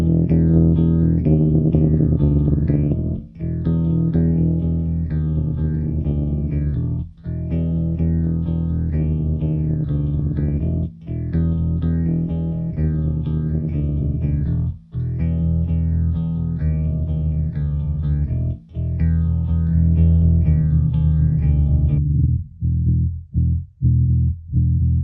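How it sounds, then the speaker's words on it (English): Heavily distorted, gritty bass-driven music plays continuously with brief dropouts, ending in a few choppy stabs; the distortion comes from a compressor plugin applied to the bass. "we can get some nasty sort of distortion going on there with"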